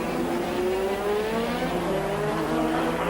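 A 1986 Formula One car races through Monaco, its high-pitched engine whining loud and continuous as the pitch climbs steadily with acceleration.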